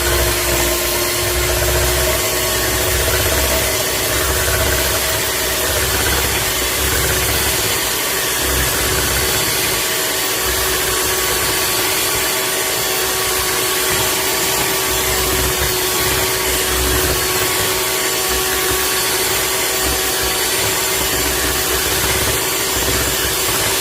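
An electric mixer churns Jamaican black cake batter with a loud, continuous motor drone and grinding hum that holds steady from start to finish.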